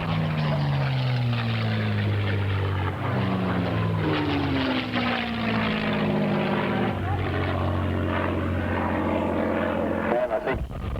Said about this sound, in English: Here we are again rolling in on another simulated ground attack pass.